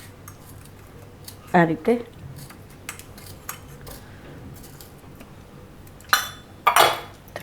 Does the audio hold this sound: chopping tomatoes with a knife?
yes